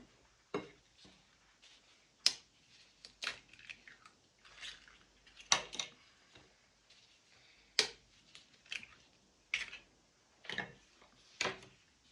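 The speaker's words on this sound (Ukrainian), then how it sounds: "Висипаємо соль, цукор, вбиваємо яйця." Salt and sugar are poured and eggs cracked into a bowl for varenyky dough, giving a close series of sharp taps and soft wet squishes at irregular intervals, with no talk.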